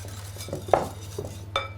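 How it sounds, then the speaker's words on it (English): A utensil stirs a handful of kale into an omelette mixture in a dish, giving a few short clinks and scrapes close up over a low steady hum. "Give that a little stir."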